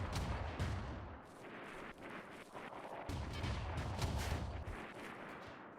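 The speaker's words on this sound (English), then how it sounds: "you're gonna keep hearing machine gun fire" Machine gun fire in the video game RimWorld, a faint, continuous rattle of rapid bursts with distant booming, heard steadily and without speech.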